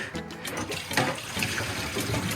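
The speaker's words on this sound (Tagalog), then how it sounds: "Ngayon, buksan na natin yung tubig." Water runs from a newly plumbed kitchen tap in a renovated kitchen, tested for leaks; a steady, close splashing rush with fluctuating gurgles.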